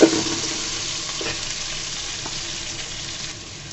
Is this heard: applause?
no